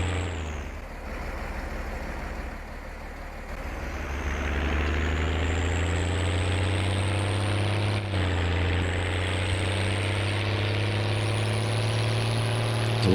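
A tractor in Farming Simulator 19 hauls a full load of TMR feed, its engine a steady, loud, continuous drone that rises slightly in pitch after a few seconds and then holds level throughout, with no voices.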